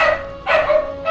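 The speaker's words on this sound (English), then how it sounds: "Also, Burke's dogs are pissed" Angry dogs bark at home in the background during a League of Legends match, two sharp, fairly close bursts with no talk over them.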